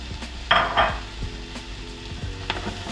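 Garlic sizzling in a hot pan while ox cheek lasagne is being made, with a soft steady fry and two brief louder bursts as pieces hit the oil near the start, then a low crackle with light utensil taps.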